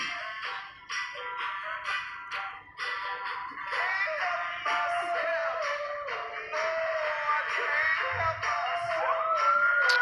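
An ambulance siren wails through downtown Las Vegas, its rising and falling tone sweeping steadily and fairly loud as it passes, over street noise.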